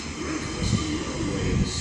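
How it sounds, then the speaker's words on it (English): An IET train pulls into Exeter St David's station on a Sunday evening, a steady low rumble and rolling noise building close by, with some voices audible in the background. "We have the IET coming in now."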